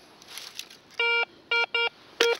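A metal detector searching a field gives several short, clear electronic beeps with a harmonic tone, three close together and a fourth after a pause, over faint rustling.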